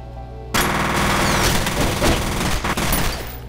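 Rapid automatic gunfire in the F.E.A.R. video game, loud and sustained after a sudden start, dense bursts of shots with brief gaps, no talking.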